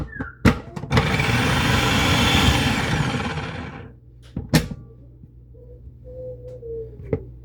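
A food processor slicing spinach runs loud and close for about three seconds, framed by sharp clunks of the lid and parts, then winds down with a few more knocks.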